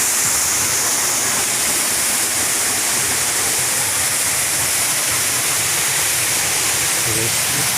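Mahayahay Falls, a steady roaring waterfall filling the air with dense, loud, unbroken rushing water, close by and constant throughout.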